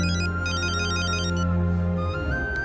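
A telephone rings with a bright, repeating electronic ringtone melody over a steady tone, loud and continuous for under three seconds.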